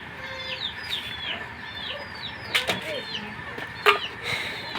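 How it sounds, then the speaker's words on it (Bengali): A large pet kora bird, or watercock, calls with repeated throaty clucking notes in a rhythmic series, close by, with a couple of louder knocks and faint background noise. "এ হলো আমার কোরা পাখি, কুরুস নিয়ে নিছে।"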